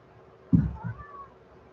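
A cat at home gives one loud, close meow followed by a softer trailing call, alone over a quiet room.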